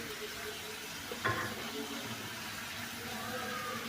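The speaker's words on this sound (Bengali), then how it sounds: "চিংড়ি মাছ দিয়ে দিচ্ছি 4 থেকে 5টা। তেলের সাথে ভেজে নেব।" Four or five shrimp fry in oil in a pan, a quiet, even sizzle held close throughout, with one brief sharper clatter near the start.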